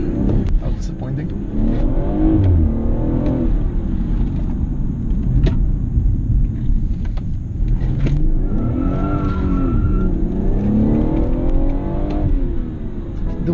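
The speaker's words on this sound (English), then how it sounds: "Listen to this gear change." A 2017 BMW 440i M Performance in Sport Plus Tiptronic mode accelerates hard, its engine note climbing and dropping through gear changes, with tyre noise and a voice heard over the loud cabin drone.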